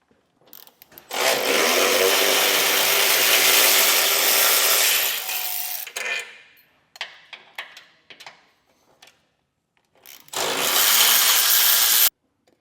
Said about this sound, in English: to do this, we'll be using a 15mm socket